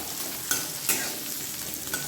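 Onion frying in a pan for a pumpkin bharta, a soft, fairly faint steady sizzle with a few brief stirring knocks and scrapes and no speech.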